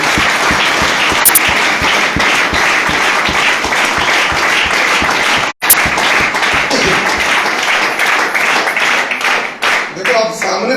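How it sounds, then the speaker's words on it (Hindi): A large conference audience bursts into loud, sustained applause for the company CMD, dense rapid clapping filling the room and continuing for about eight seconds before it thins out into scattered claps while voices murmur. "तो मैं चाहूंगा एक बार जबरदस्त ताली होनी चाहिए हमारी कंपनी के CMD।"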